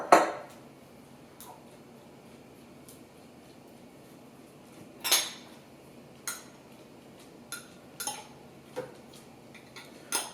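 Eggs and other ingredients for sous vide egg bites go into a Vitamix blender jar, heard as a strong clatter at the start, then scattered light clinks and taps spread across a quiet kitchen.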